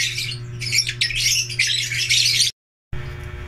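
Quality birds kept for sale fill the air with dense, overlapping squawks and bright chirps close by, over a steady low hum, breaking off in a brief silence before the hum resumes near the end.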